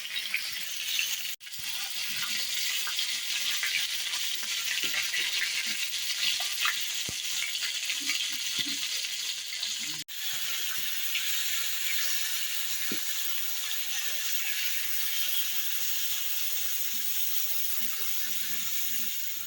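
Fish rubbed with turmeric and salt sizzle and spit in a hot wok over an outdoor stove, a dense, unbroken crackle of frying oil with occasional sharp pops throughout.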